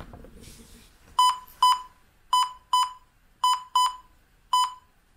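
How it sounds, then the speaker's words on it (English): Electronic beeps ring out clearly in a quiet room: an Acer Swift 5 laptop charging over USB-C gives three pairs of short, high tones, then one final single beep. "the computer makes those three double beeping noises and then one single beep"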